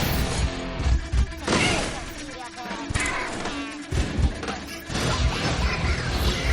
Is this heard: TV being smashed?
yes